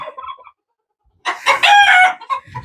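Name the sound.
broody Silkie hen clucking loudly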